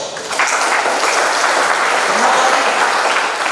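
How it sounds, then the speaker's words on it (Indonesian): Audience applause at the inauguration of a youth organization leader in Makale, Tana Toraja, a steady, dense wash of clapping from a crowd indoors that sustains evenly throughout. "Beri aplaus."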